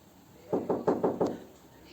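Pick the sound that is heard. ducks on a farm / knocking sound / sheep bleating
knocking sound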